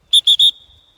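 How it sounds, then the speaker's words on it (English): A dog training whistle blown in three short, shrill, high-pitched blasts in quick succession, the last trailing into a faint lingering tone, close and loud with no talk. "Say the word here, blow the whistle."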